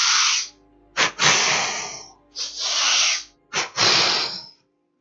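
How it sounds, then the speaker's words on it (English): Martial-arts breathing drill with a double inhalation and double exhalation: two quick sharp breaths followed by a longer rushing airflow, repeated twice, close and breathy with no talking. "the other technique is the double inhalation and double exhalation"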